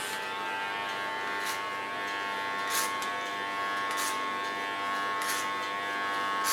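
An electric hair clipper buzzes steadily and close during a haircut, with a high whine and brief rasping bursts as the blades pass through hair.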